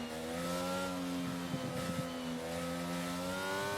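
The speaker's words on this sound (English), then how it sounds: "Just listen to the engine." A race car engine in a sim racing game on the Marina Bay street circuit drones steadily at high revs, a continuous tonal whine with slight pitch shifts and no talk.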